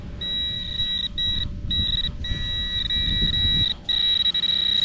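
Metal detector sweeping a beach in Buffalo, NY gives a steady high electronic tone that holds almost continuously, broken by a few short dropouts, over low rumbling wind and handling noise; nobody speaks.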